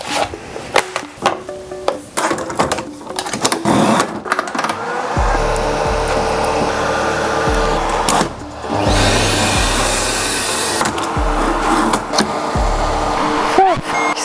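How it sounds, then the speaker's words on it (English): Clattering and handling knocks give way to a vacuum forming machine's motor whirring steadily as it makes a mold, stopping and restarting a few times. "so now we can make the vacuum mold"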